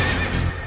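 A horse neighs in a single loud, close whinny lasting under a second, with no talking over it.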